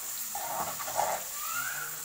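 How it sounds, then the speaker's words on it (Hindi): A small splash of water sprinkled into a pan of frying masala with chopped tomatoes for brain masala, giving a brief hissing sizzle over steady background noise for about two seconds. "थोड़ा सा पानी का छींटा लगा देती हूँ मैं।"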